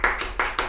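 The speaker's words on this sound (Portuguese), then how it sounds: "Uma salva de palmas," A few distinct claps during a livestreamed tribute event, likely a soundboard or keyboard-triggered effect rather than a live crowd, heard as three or four separate, close, sharp bursts.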